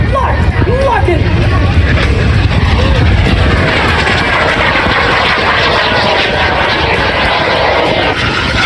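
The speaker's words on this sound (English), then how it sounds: "The Subsonics is an experimental jet that comes out from the right." Loud jet engine roar from an experimental jet aircraft passing at an air force base airshow, a sustained broadband rush with crowd babble faintly underneath.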